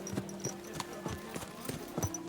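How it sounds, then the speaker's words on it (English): Horse hooves clip-clop at an easy walking pace in Kingdom Come: Deliverance II, medieval open-world game, a handful of soft, evenly spaced footfalls, fairly close, over a quiet ambient background. "Oh, that's my horse."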